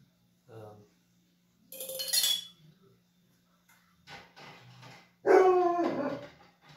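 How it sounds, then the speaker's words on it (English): A dog barks in a few separate short bursts, moderately close and fairly loud, with a faint clink and quiet gaps between the barks. "Oh, there's the dog again."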